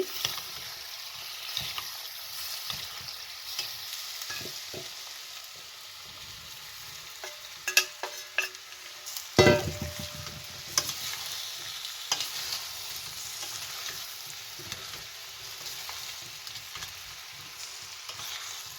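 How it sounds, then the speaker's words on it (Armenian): Potato dish frying in a pan as it is stirred little by little, a soft steady sizzle broken by occasional scrapes and clinks of the spoon, with one louder clatter midway. "այսպես քիչ-քիչ խառնելով, որպեսզի ինքը չլխկվի։"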